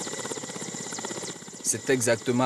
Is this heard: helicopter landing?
yes